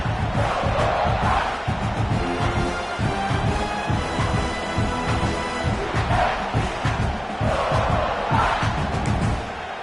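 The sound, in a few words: crowd roaring at a football game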